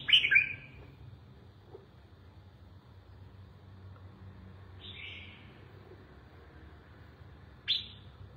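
Red-whiskered bulbul calls in three short, bright chirping bursts spaced several seconds apart, fairly close over a quiet, faint background.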